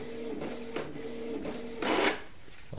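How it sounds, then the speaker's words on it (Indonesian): An office printer runs a print job of an Indonesian NPWP tax card, whirring with repeating mechanical tones, soft rubbing and a louder rasping burst near the end, close and with no talk. "ini saya ngeprint NPWP dari PDF"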